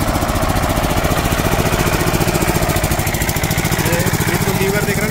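Small auxiliary engine mounted on the back of a heavy transformer trailer, powering its hydraulic system while idling in a steady, rapid chugging rhythm, loud and close throughout.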